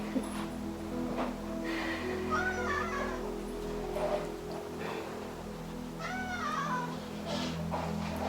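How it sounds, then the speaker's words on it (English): Several cat meows come one after another, each a wavering, pleading cry, over a constant low electrical hum with no talking. "It's dinner time, so the cat's meowing."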